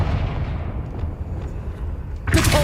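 A Confringo blasting spell in Hogwarts Legacy goes off, a deep rumbling boom that decays over a couple of seconds before a sharp, bright burst erupts near the end.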